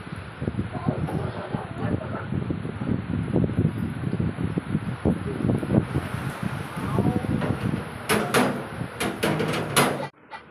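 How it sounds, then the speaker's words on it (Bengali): Heavy rain driven by gusty wind during a monsoon downpour, a dense continuous broadband wash with scattered sharp knocks and taps near the end before it cuts off abruptly. "বৃষ্টি তো খুব ঝমঝম করে এলো,"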